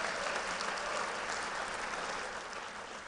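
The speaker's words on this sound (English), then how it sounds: "Could you all just give Brother Spencer a round of applause?" Dense, steady audience applause at an Alpha Phi Alpha fraternity Eastern Region public program, loud and continuous for about three seconds before easing slightly at the end.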